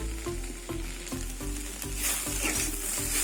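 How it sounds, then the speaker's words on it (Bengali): Okra and potato fried with poppy seeds crackle and sizzle steadily in a pan, a close, continuous frying hiss broken by regular scraping stirs. "ঢ্যাঁড়স ভাজা হয়ে গেছে, এবার আমি নামিয়ে নেব।"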